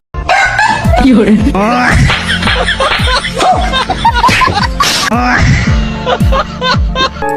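Chickens and a rooster sounding in a busy, loud mix, with a crow and clucking among chatter, laughter and other noises throughout.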